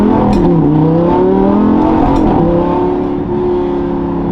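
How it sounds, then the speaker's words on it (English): A Lamborghini engine revs up hard, its loud, steady roar climbing in pitch as the car accelerates, with no voices over it. "That was the first time really accelerating in the car."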